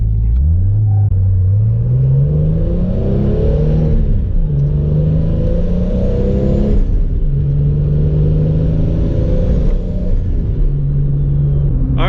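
A Toyota Supra cruises on a busy freeway, its engine droning steadily with a wavering low hum and occasional revs, loud and close inside the cabin throughout, with no talking.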